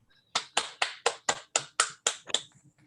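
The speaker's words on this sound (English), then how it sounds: "Please feel free to unmute and applaud, congratulate." Applause comes through a video call as a quick series of about nine sharp claps at a steady rhythm. The claps are close and crisp, with no talking over them.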